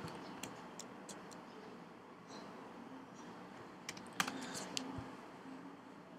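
An apt-get install command is typed on a computer keyboard, a faint series of light, uneven key clicks with a few sharper taps toward the end, under quiet room hiss.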